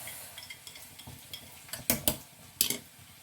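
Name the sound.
mixing bitter melon with salt, red chili powder and cumin seeds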